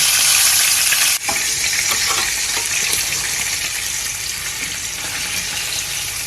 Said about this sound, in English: we are going to continue to grill it in the air fryer